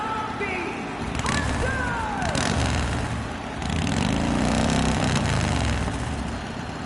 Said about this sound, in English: she's got the motorcycle just like she did in the game when she starts out